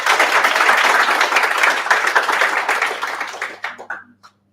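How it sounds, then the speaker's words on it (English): Attendees at a Sydney Serverless Meetup tech talk give a round of applause, a brisk burst of many claps from a small room that carries on loudly, then thins out and fades to a few last scattered claps. "Round of applause for Hilton."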